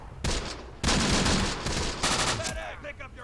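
Rapid bursts of small-arms and machine-gun fire from a World War II battle in the game Close Combat: The Bloody First, loud and continuous with overlapping volleys, then fading near the end.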